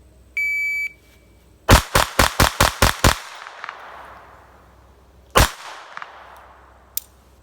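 A .25 ACP pocket pistol, Astra Firecat or Colt Junior, emptied one-handed after a start beep: seven sharp, loud shots in a quick, even string, then a pause and one more shot, with no talk.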